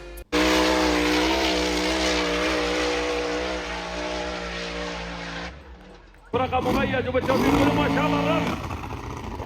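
A car engine at the Liwa International Festival roars loud and sustained as it accelerates, drops off briefly, then bursts back into harsh, rising revving.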